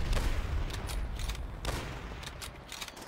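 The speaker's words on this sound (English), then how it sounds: "That's not the way you fire that MP40" Bursts of MP40 submachine gun fire in the Call of Duty video game, several rapid volleys separated by short gaps, loud and close with no talk.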